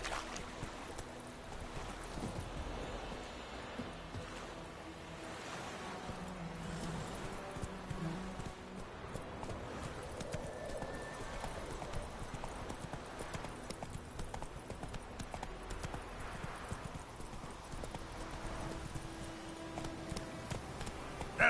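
Rhythmic clip-clop of a horse's hooves galloping steadily in a PS4 video game, continuous and moderately loud across the whole stretch, with faint game ambience behind it.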